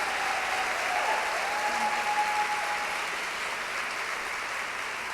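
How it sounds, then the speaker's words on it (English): Conference audience applauding at a USC women's event, a sustained even roar of many hands clapping in a large hall, holding steady throughout at moderate loudness. "Ladies and gentlemen, a round of applause."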